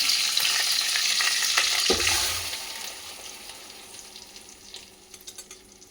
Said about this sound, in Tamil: அரைச்சி வச்ச விழுது நல்லா கிண்டி விட்டுட்டே இருக்கணும்